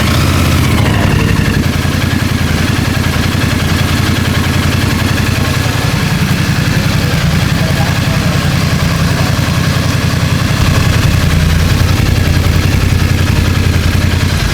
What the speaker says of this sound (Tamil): ஸோ இது வந்து ஐடியல் பீட்டு.